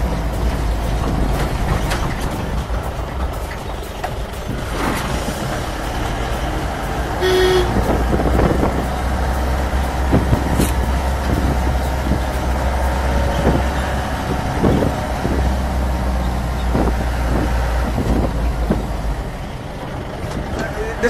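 An early-model Mahindra Thar diesel drives along winding roads in Kerala with a steady, loud engine drone and road rumble throughout. A horn toot sounds briefly partway through, and occasional cabin noises sit over the constant low hum.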